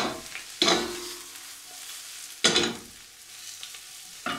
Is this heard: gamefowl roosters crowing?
no